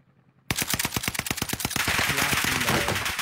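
Rapid automatic gunfire in a battle-royale video game, a loud close burst of sharp regular shots that thickens into a denser, continuous rattle after a brief quiet lead-in.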